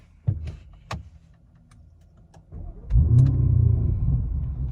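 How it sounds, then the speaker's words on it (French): A car engine being restarted in a home mechanic setting: a few clicks and clunks, then a cranking whir as the engine catches and settles into a steady low idle rumble close by. "Je vais juste éteindre le moteur pour voir."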